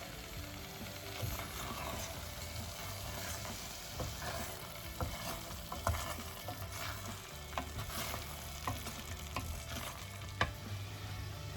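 A rubber spatula scrapes thick coconut cream around the sides of a hot pan while cooking ube halaya with latik, giving soft, repeated scraping strokes over a steady low sizzle.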